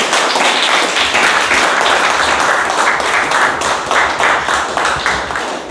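Toastmasters meeting audience claps loudly and steadily throughout, a dense sustained round of applause from a room of people with no speech over it.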